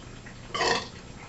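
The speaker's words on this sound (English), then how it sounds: "Yeah, burp." A single drawn-out burp sounds from close range in a home kitchen, moderately loud against quiet room tone, lasting about a quarter second.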